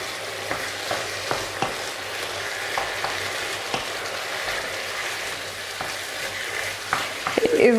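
Tomato sauce with ricotta is stirred in a pan, giving a low continuous sizzle broken by sharp, irregular spoon clicks and scrapes against the pan. A brief squeaky sound enters near the end.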